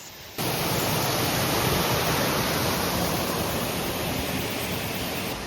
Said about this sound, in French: Voilà la cascade vue d'en bas.